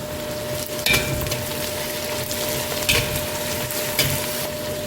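Onions sauté in hot oil in a pan for chicken biryani, giving a steady soft sizzle with a few brief clattering stirs spaced a second or two apart and no talk.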